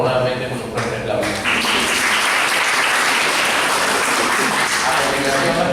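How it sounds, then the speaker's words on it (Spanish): Audience giving a strong round of applause after a law lecture, a loud, dense burst of clapping that swells quickly and holds steady to the end. "Despidámonos por favor nuevamente con un fuerte aplauso."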